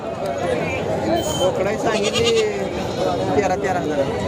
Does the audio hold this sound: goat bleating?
yes